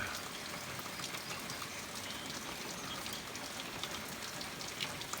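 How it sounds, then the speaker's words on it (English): Heavy rain falls steadily on pasture at night in a dense, even hiss with no breaks, moderately loud and continuous throughout, with no voices heard. "it's been raining all night"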